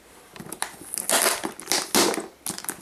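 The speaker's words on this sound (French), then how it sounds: "Je suis en train de défoncer la boîte aussi au passage." A cardboard box is crushed and torn open up close while unboxing a parcel, with loud crunching and crinkling bursts in an uneven rhythm.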